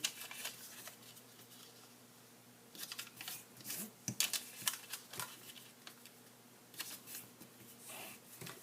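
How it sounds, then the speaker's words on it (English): Origami paper is folded into a fancy basket, with soft, faint crinkles and crisp creasing snaps in irregular bursts close by. "We're going to take each of the 4 corners and fold into the center."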